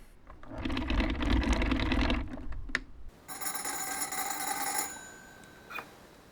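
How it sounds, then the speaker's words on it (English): A field telephone's hand crank rumbles briefly, then its bell rings in a sustained metallic trill nearby before cutting off. "let's just give her a call"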